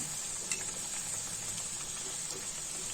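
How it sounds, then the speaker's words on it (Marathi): Fasting pakoras frying on both sides over a low flame, a steady soft sizzle and hiss of oil that holds even throughout, with a few faint stirring clicks and no speech. "मंद आचेवर ही अशी दोन्ही बाजूने भाजून घ्यायचे।"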